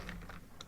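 Computer keyboard typing while entering account details in Xcode, a few soft key clicks across a very short, quiet moment.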